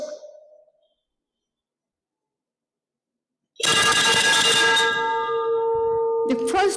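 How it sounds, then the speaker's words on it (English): A ship's signal bell rings loudly to start the launch of a Philippine Coast Guard 97-meter patrol vessel at a shipyard, with a sustained metallic ringing tone and a brief clang near the end, after a short spoken announcement and a long silence. "This bell is a sign to commence launching work."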